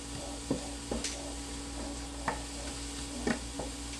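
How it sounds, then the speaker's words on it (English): Diced onions sauteing in a pan for a Tuscan potato and kale soup, a soft steady sizzle broken by several light scrapes and taps of a utensil stirring at irregular intervals. "So I'm using that to kind of saute up this this diced onions"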